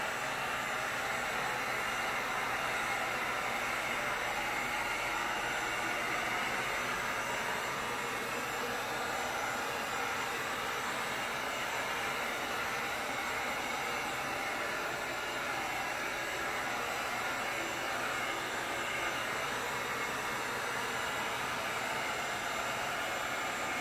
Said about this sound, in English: we're going to hit it with the heat gun